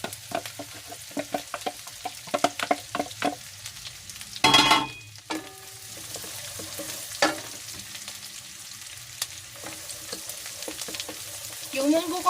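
Onion and garlic sauté in a pan for ginisang monggo, with an ongoing sizzle broken by close spatula scrapes, clinks against the pan and a burst of louder stirring partway through.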